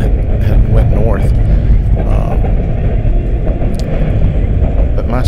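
A freight train rolls through Callahan Junction with a continuous heavy rumble and clatter of wagons, steady and fairly close, while someone talks over it.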